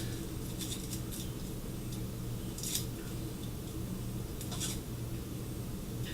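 Papery skin being peeled off an onion half: soft, close crinkles and dry rustles come in a few short bursts over a steady low background hum.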